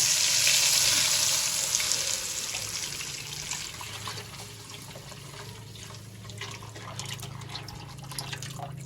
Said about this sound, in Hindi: जीरे को हल्का सा फ्राई कर लेते हैं।